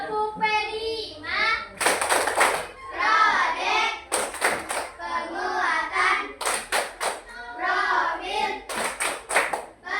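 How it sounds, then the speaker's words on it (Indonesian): Children join in a rhythmic tepuk P5 clapping game during a classroom ice-breaker, with several bursts of group clapping alternating with chanted speech from the kids and a teacher throughout. "Kita tepuk P5. Tepuk P5."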